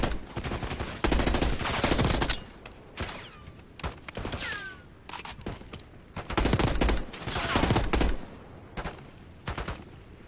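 In Call of Duty Black Ops 6 gunfire rings out in repeated loud, close bursts of automatic shots, separated by short quieter gaps, with a few creaking mechanical sounds between them.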